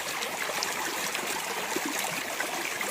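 Snowmelt water runs in a mountain stream, a steady close rushing trickle with bright splashy gurgles throughout and no voices.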